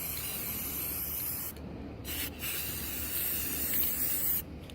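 Paint spray gun applying a first coat to sanded shelves outdoors, a steady close hiss running almost the whole time with a couple of brief pauses between passes.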